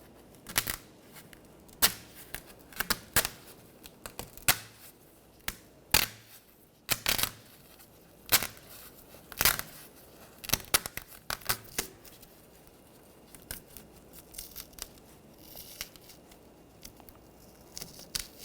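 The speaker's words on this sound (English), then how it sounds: "Now this top insulation, you just want to peel that off." Foam insulation peeled off the top of an AC condenser on a 2013-2019 Ford Escape 2.0L, a run of sharp, close crackling tears and rips in irregular bursts with quiet gaps between them.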